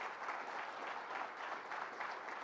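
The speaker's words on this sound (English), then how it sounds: "Let's give our president another round of applause." A crowd gives a steady round of applause for a college president at an upstate New York facility announcement, a dense, even wash of many hands clapping at moderate distance with no voices over it.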